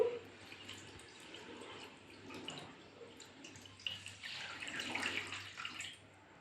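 Water poured from a container onto a small model house standing on pillars in a school classroom activity, a soft, continuous splashing trickle that grows a little louder toward the end, quiet and close.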